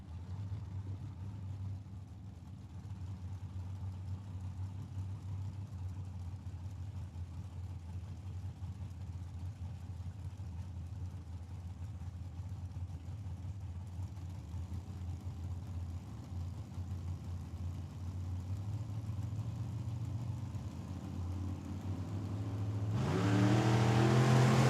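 Dragster and Camaro engines rumble steadily at a drag strip, a loud low drone that swells into a sharp launch roar near the end.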